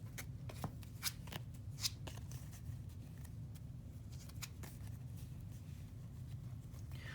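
Trading cards for a Yu-Gi-Oh Pendulum Magician deck shuffled steadily at close range, a continuous soft riffling rustle with brief sharper flicks now and then and no talk.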